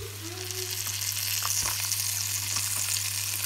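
Mussels going one by one into a pan of sizzling garlic and ginger, with a steady close crackle and sizzle and a few brief clinks and splashes as pieces drop in.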